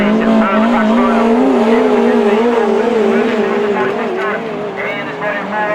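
Autograss race cars at St Neots roar past with loud, wavering engine whines that rise and fall together, while a commentator talks over them.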